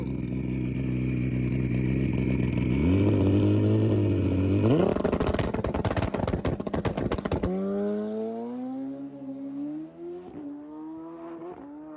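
A 700 HP Suzuki Hayabusa drag motorcycle on an NHRA strip makes a pass, its engine roaring loud and close as it climbs in pitch through sharp gear shifts, then fades as the bike pulls away.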